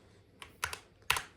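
Four crisp, separate key presses on a DrunkDeer A75 keyboard with magnetic switches, close and clear in a quiet room, with the last press the loudest.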